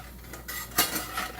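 Mushroom and onion being mixed for an omelette: a brief clatter of utensil against dish, with one sharper clink midway, close and fairly loud, no talk.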